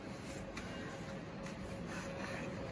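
An angle grinder steadily grinds slag off an SMAW tack weld on a 3G vertical joint, producing an unbroken, even whirring whine at constant loudness throughout, with no voices.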